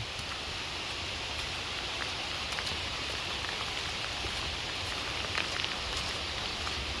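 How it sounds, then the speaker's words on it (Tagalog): Steady, moderate rain falls continuously on a nipa hut after a typhoon, a dense even hiss with scattered drop taps, and no voices. "yung ulan na uh, hindi naman ganong kalakasan ngayon"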